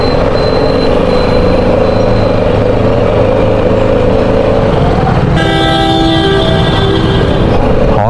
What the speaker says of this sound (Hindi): हॉर्न का इस्तेमाल यहाँ पे इतना ज़्यादा है